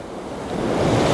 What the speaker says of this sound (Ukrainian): Растюнечка, ти бачиш, яке красиве море?